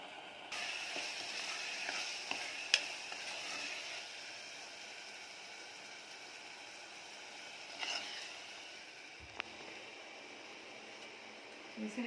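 Tomato masala with salt, chili powder, coriander powder and garam masala frying in a pan, giving a faint steady sizzle with occasional clinks of a utensil, fairly quiet and continuous.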